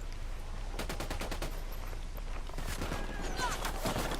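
Gunfire rattles in the video game Ghost Recon Wildlands, with rapid automatic bursts and scattered shots over steady background noise at a moderate level.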